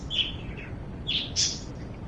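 Several bright bird chirps from the video game No Man's Sky, a short trill early on and a few sharper tweets later, fairly close and clear over a low steady background hum.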